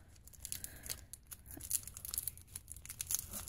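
A sticker is torn and the paper and plastic wrap of a boxed soap sample crinkles, giving close, busy, rustling crackles with sharp little rips throughout.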